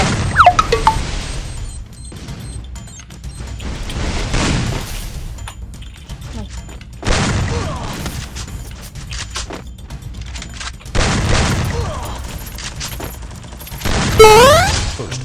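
Heavy booms and bursts from grenades in the game Free Fire go off in several separate blasts, with quieter stretches of game noise between them.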